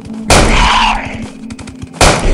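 Two loud, close gunshots ring out at a creature in the horror game Death Park 2, each blast followed by a long booming decay, with faint rhythmic thuds between them.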